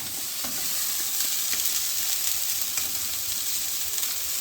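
Krill cook in a pan without oil, giving a steady, close hiss of sizzling with faint stirring scrapes and small pops throughout.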